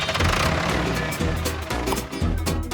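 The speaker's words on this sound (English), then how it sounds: "it's a tractor." A steady tractor engine rumbles continuously with a deep low drone, close by and fairly loud, with slight surges in power throughout.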